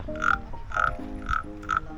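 A scraped frog-call lure in a Karen long-neck hill-tribe village gives four loud, rhythmic croaking rasps, each about half a second apart, close up with no talking.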